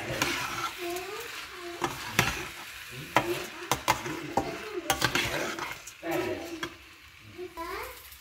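Vegetable pulao ingredients mixed in a pot, with repeated scraping, clattering stirring strokes and a light sizzle, while faint voices murmur in the background.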